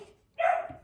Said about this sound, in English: I didn't realize my dogs have been barking this whole time.